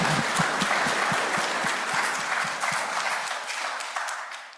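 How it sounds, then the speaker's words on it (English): A church congregation applauds after a sermon, with close, steady clapping and some rhythmic claps in unison that gradually thin and fade toward the end. "Maybe we should all give another round of applause for Lucas's sermon today."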